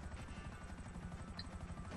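Steady rotor thump of an Akula helicopter in the video game GTA V, a continuous rhythmic chopping with engine whine underneath, moderately quiet and unbroken, with no speech.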